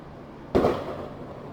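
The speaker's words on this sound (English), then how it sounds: "Lovely fireworks." A single firework goes off outside in daylight, one muffled boom with a short fading tail heard from indoors against an otherwise quiet room.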